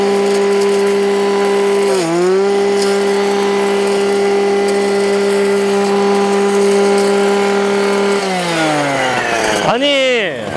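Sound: Husqvarna 555 53cc engine brush cutter running

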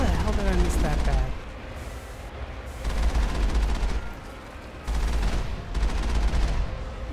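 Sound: suppressing gunfire in the video game Mass Effect

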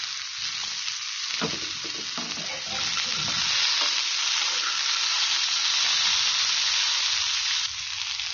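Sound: stirring beans, cauliflower and potatoes frying in a pan

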